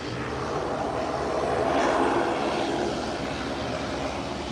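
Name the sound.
airplane landing on runway 28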